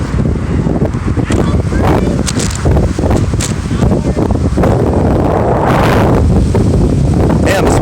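Heavy wind buffeting the microphone, a loud continuous roar with gusting rumbles throughout.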